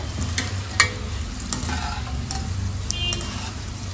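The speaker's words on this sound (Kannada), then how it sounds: "ಬೆಳ್ಳುಳ್ಳಿ ಫ್ರೈ ಮಾಡ್ಕೊಳ್ಳೋಣ" Garlic and curry leaves sizzle in hot oil while a spoon scrapes and stirs the pan, with a few sharp clinks against the metal.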